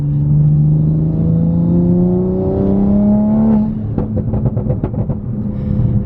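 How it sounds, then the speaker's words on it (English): A Toyota Supra Mk5 in sport mode revs up loudly and close by, its engine note climbing steadily, then lifts off into a rapid string of crackling exhaust pops. "we get the theatrics, we get the louder exhaust note, we get the pops"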